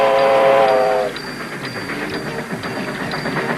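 Cartoon steam train whistle blowing loud and close for about a second, then giving way to a steady rumbling chug of the train running along the tracks with faint repeated clanks.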